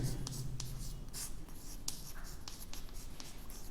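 A pen writes out an algebra equation for a polynomial lesson, producing close, steady scratching strokes with short pauses between marks throughout.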